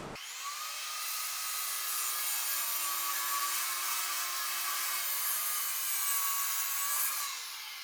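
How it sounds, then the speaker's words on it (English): A miter saw slices through burnt, stained wood in one steady high-pitched whining cut of about seven seconds, loud and close, with no talking over it. "let's go hit it with the miter saw quick, and then we'll brush it off."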